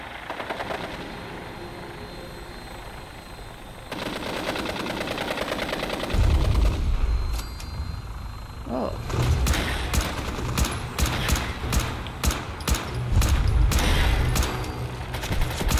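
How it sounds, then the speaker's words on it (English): Gunfire in Fallout 4 against Rust Devils: after a quieter opening, loud rapid bursts of automatic fire crack out again and again, with heavy booming thumps and a droning engine-like rumble underneath. "What are you shooting at?"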